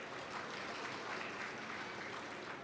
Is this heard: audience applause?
yes